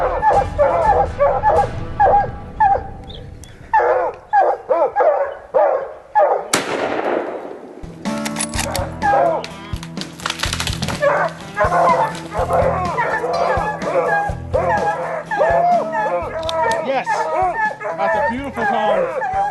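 Hunting dogs barking repeatedly at close range while chasing a big tom mountain lion in British Columbia, sharp overlapping barks and yips with a brief loud burst partway, people talking underneath at times.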